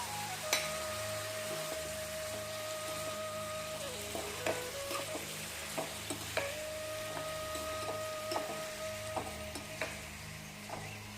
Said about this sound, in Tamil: மஞ்சள் போட்டு மிக்ஸ் பண்ணிக்கோங்க